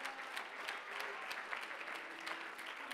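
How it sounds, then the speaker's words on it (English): Steady applause from a church congregation, a dense patter of many hands clapping continuously and fairly loud throughout, with no pauses. "Clap your hands and shout hallelujah."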